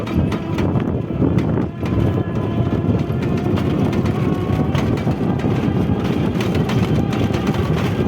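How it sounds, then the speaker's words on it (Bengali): A steady low engine rumble drones on throughout, fairly loud and continuous, from a small fishing trawler chugging nearby at sea, with no pauses. "ছোট ছোট মাছ ধরার নৌকা, নৌকা বলেন ট্রলার বলেন যাই বলেন না কেন,"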